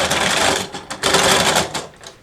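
A G gauge model train tender rolls roughly with its wheels off the rails, giving a loud, rattling mechanical clatter with uneven bursts that fades near the end.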